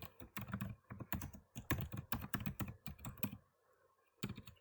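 Quick bursts of typing on a computer keyboard, clusters of close, crisp key clicks in an uneven rhythm with short pauses, ending in one last flurry.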